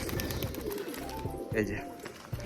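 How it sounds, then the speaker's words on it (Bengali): Racing pigeons, a male and a female, coo in low, throaty bursts close by, while a person talks over them. "এই যে দেখো এই দুটো পায়রাকে দেখো, দুটো পায়রা কিন্তু খুব সুন্দর বাজির।"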